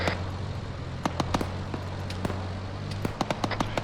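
Grenade blasts and gunfire in the military video game Arma 3 crack out as a scattered run of sharp bursts, clustering near the end, over a steady low engine-like drone.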